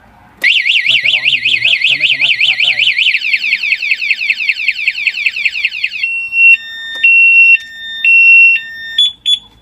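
A Honda Wave 110i motorcycle's anti-theft alarm blares close by: rapid warbling siren tones, then a different pattern, then alternating high beeping tones in an on-off rhythm.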